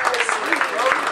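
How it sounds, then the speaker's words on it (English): A crowd at a battle rap league event claps and cheers for battle rapper Snap, a dense wash of applause with shouting voices over it. "Clap that shit up for Snap."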